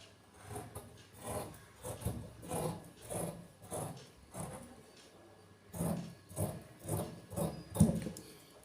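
Scissors cut through fabric along a panties pattern in a series of rhythmic, rasping snips, about a dozen close, regular cuts with short pauses between them and no talking.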